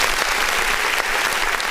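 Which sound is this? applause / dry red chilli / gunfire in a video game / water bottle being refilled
applause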